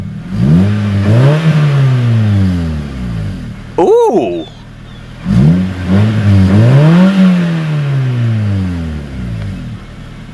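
A car engine with a freshly welded exhaust revs hard on its first start, loud and close, rising and falling in two long swelling bursts; a short exclamation and brief talk cut in between revs.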